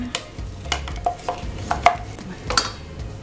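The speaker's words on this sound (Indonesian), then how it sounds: "Kita haluskan cabenya." Red chilies being ground by hand for sambal tumpang made with overripe tempe, giving a steady run of close, irregular knocks and scraping grinds with no talking.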